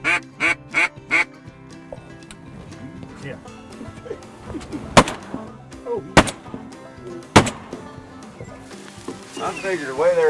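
Shotgun blasts during a duck hunt from a blind, three sharp loud reports spaced about a second apart, preceded by duck quacks and mixed with calls, voices and background music.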